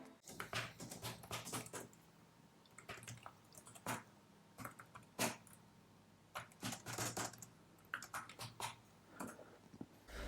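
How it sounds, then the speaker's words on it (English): Quiet, soft keystrokes on a Logitech K380 Bluetooth keyboard tap in irregular bursts with short pauses, close up and alone with no talking. "Let's do a little typing test to see how loud this keyboard actually is when typing."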